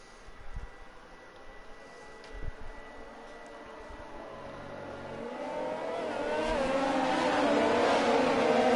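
In a Bahrain league race in a racing video game, a car engine rises steadily from low and distant to a loud, high revving whine as it accelerates away.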